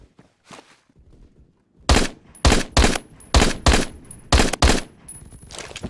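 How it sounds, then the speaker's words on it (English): Bursts of RPK machine gun fire in the Phantom Forces shooter game, a few soft thumps first, then six or seven loud, evenly spaced bursts with a thin ringing tone above them, no talking. "He uses RPK, bro."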